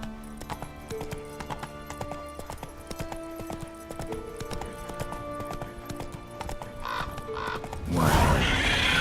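Hoofbeats of a galloping horse in The Witcher 3 video game pound in a fast rhythm under background game music, ending in a louder rush of noise.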